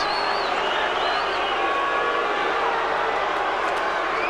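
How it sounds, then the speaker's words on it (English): A dense boxing-arena crowd roars and murmurs continuously at a heavyweight fight between Lennox Lewis and David Tua, the broad wash of voices staying steady and loud with faint whistle-like tones drifting through. "1 or 2 boos from the crowd, who are disappointed that Tua can't make it more competitive"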